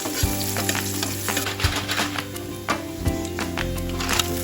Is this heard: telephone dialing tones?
no